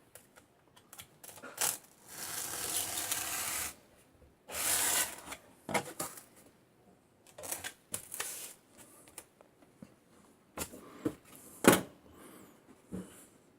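A blade cuts Kaizen foam to size for a tool chest organizer, giving intermittent close rasping and tearing strokes separated by quiet gaps and small knocks.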